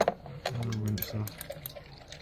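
Water splashes and runs over VFR 800 rear brake parts being rinsed, with short gurgling bursts and small clinks up close amid faint background sounds.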